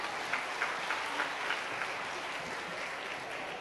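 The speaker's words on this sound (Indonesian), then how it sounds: "Boleh tepuk tangan buat anak-anak?" A church congregation claps for the children at a Sunday school anniversary service, a soft, moderately distant round of applause with a few sharper individual claps standing out early on.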